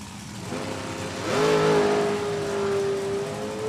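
At an NHRA drag race at Thunder Valley Motorsports Park, a top dragster engine pulls into the box. It rises from a rumble into a sustained, steady whining drone that holds near and fairly loud.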